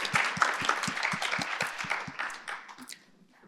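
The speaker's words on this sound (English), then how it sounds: "please let's give Nancy a round of applause and Tim now." An audience at a talk on making science inclusive gives a round of applause, with steady clapping that starts strong and fades out over a few seconds.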